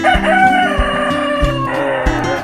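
Free-range chickens on a livestock farm: a rooster crows loudly and close, with a long drawn-out call over a rhythmic clucking pulse from nearby hens.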